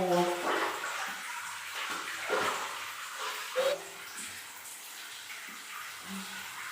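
Water splashes and pours close by during a bath at home, in uneven bursts with a few soft thumps and brief voice sounds.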